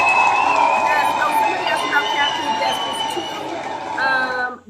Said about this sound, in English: let's give Dr. Keisha Davis a huge round of applause.